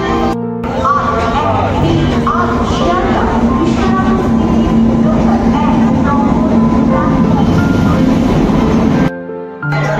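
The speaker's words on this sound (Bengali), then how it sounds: "আসছে 13111 শিয়ালদা বর্ধমান জঙ্গিপুর এক্সপ্রেস। তো ট্রেন ঢুকছে।" A loud express train, the 13111 Sealdah–Jangipur Express, rumbles and hums steadily with a sustained tonal whine as it arrives at a station, ending in a brief pause; voices can be heard under the noise.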